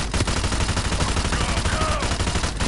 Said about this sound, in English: Can you hear the little thud sound effects? That's how many bullets are hitting us.